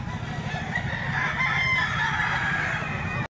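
A five-year-old rooster crows once, loud and close, in a single drawn-out call lasting about three seconds that ends abruptly.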